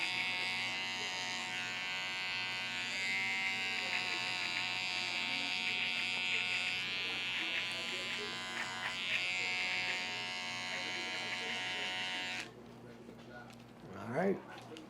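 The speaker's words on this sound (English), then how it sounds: "Last thing I do is get my edgers." Electric hair edgers buzzing steadily while cleaning up the lines of a skin fade haircut, a close, continuous high-pitched hum that stops near the end, followed by brief handling noise.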